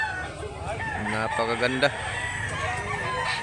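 A Blue Miner rooster crows once, a clear, close, drawn-out call over a noisy outdoor background, with someone talking around it.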